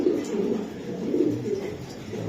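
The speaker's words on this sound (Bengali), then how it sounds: "এটা একটা 22-এর একটা কবুতর" A racing pigeon coos in low, throaty, repeated rolls, close to the microphone, over a steady background hum.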